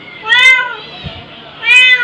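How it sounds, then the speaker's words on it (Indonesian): Cats meowing inside a rescue shelter cage holding about sixty cats, two loud drawn-out meows near the start and end of the clip, with faint background noise between them. "Terus kita ada di kandang yang 60 ekor kucing ya."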